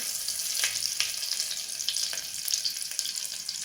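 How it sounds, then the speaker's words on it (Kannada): Curry leaves sizzle and crackle in hot oil while cooking bisi bele bath, a steady close frying hiss with small pops throughout and no talking. "ಕರಿಬೇವು ಹಾಕ್ತೀನಿ ನೋಡಿರಿ"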